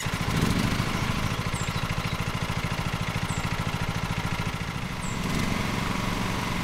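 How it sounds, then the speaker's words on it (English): A riding lawn mower engine runs at a steady, loud, close idle in Lawn Mowing Simulator, with a rapid even chug and a few faint high chirps over it. "Hold Z to start this bad boy."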